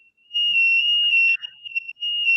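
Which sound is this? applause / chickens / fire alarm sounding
fire alarm sounding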